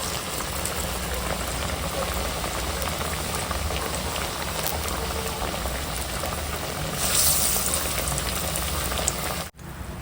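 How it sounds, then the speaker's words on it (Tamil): Urundai kuzhambu, a Tamil dumpling curry, bubbling at a steady boil in a pot in a home kitchen, a constant dense simmering hiss with no voices, briefly louder near the end before a sudden cut. "நமக்கு உருண்டை குழம்பு அது கொதிச்சுட்டு இருக்கு பாருங்க கொதிச்சுட்டு இருக்கு"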